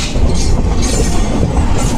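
The Sultanpur Superfast train rolling past on the rails near a goods marshalling yard, a loud, close, continuous rumble with rattling wagons.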